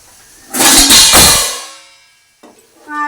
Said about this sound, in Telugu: ఇగో తగినంత వాటర్ వేసుకుంటున్నానండి ఇగో వాటర్ వేస్తున్నానండి